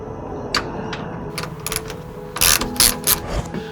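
A ratchet wrench loosening bolts on a Jeep Wrangler hood, giving short bursts of rapid mechanical clicking, close and fairly loud, with brief pauses between strokes.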